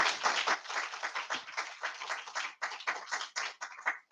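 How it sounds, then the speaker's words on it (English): A crowd claps together in a sustained burst of applause at a literary event's author panel, close and lively, with the clapping thinning slightly near the end. "If we can have a final round of applause for Raoul, Gurjinder, Claudia, and Paul."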